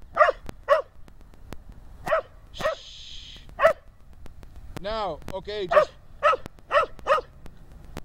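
A dog barks in sharp, close, repeated bursts spread through the clip, with a whimpering whine in the middle, while a person talks over it.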